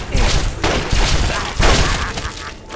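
Loud, close gunfire in Fallout 3, several heavy shots and bursts at irregular intervals with thuds between them, no voices.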